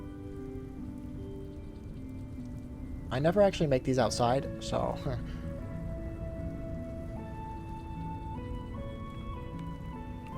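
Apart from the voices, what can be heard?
rain in the video game Minecraft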